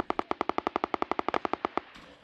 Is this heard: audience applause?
no